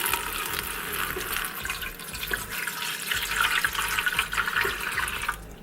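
Water runs from a tap into a pot as it is filled for steaming, a steady splashing hiss with gurgling variations, ending abruptly when the flow stops, and no talk.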